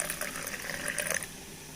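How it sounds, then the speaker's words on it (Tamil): Water poured into a tomato rasam mixture of one crushed tomato and salt, making a soft, steady splashing hiss that runs close and fairly quiet for under two seconds. "தண்ணி ஊற்றிக்கலாங்க இதில்."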